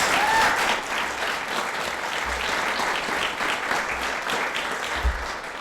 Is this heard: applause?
yes